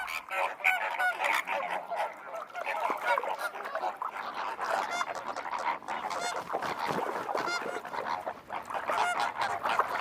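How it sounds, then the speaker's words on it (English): A flock of flamingos in a Spanish wetland in spring gives continuous honking, goose-like calls that overlap in a busy chorus with no talk over them. "Flamingos are very sociable birds."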